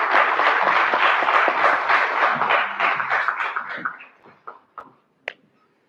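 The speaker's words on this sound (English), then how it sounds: "May we all please welcome sir with a round of applause." A round of applause at an MBA batch inauguration welcomes a speaker, dense clapping at first that thins out into a few scattered final claps and stops.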